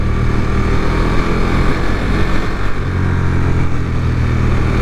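A 2019 KTM 1290 Super Duke R motorcycle's exhaust drones loud and close with a steady, throaty rumble, holding an even pace throughout without pauses.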